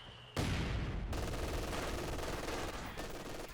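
A machine gun opens fire in Company of Heroes 2, with a sudden loud burst of rapid automatic shots that continues steadily for several seconds with battle noise around it.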